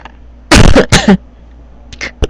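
A person who is unwell coughs in a couple of close, harsh bursts around the middle, followed by a quieter throat sound near the end, with no talk over it.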